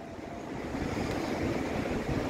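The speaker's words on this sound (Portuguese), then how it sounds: "Olha o vento." Steady wind roars and buffets the microphone at the top of the Barra lighthouse, a constant close rush of noise with no voices.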